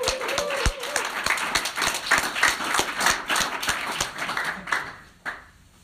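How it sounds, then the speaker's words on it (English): Crowd applause at a tech talk, a burst of steady clapping that stays lively for about five seconds before dropping away, with a brief voice near the start. "give Michael a round of applause"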